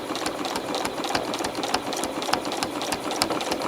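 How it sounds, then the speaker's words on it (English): A sewing machine stitches closely around an applique for crosshatch quilting, running in a steady, rapid needle rhythm at close range with no pauses and no voices. "I am actually going to stitch around this applique very closely."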